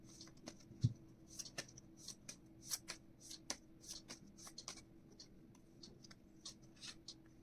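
Tarot cards being shuffled by hand, quiet close riffles and soft taps in an irregular rhythm, faint and alone.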